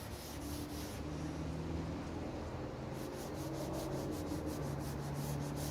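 A rag rubs walnut oil wood stain along the grain of wood in steady back-and-forth strokes, a soft continuous scrubbing heard close but quietly, with no talking.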